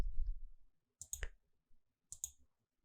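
Button presses on a Siemens Sinumerik CNC control panel click in two quick pairs of crisp, close taps, with quiet pauses between them.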